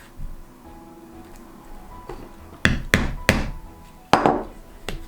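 A hammer drives a two-prong leather punch through leather while making a card case. Four sharp, close knocks are spaced out over a quiet background.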